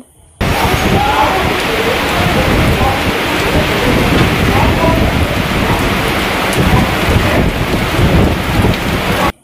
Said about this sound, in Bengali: মুষলধারে বৃষ্টি এসছে, এত বৃষ্টি হচ্ছে দেখো ট্রেনের ভেতরেও জল জমে যাচ্ছে